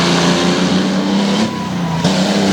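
Ford Bronco race truck engine roars loudly and close as it accelerates on a dirt track at a mountain truck-trial event, revving hard with a brief dip and surge between shifts.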